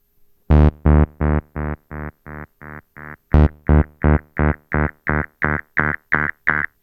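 Distorted delay feedback from guitar pedals fed by a Behringer TD-3-MO synth, a steady train of loud, evenly spaced repeating tones that grow gritty and swell again partway through, with no voices.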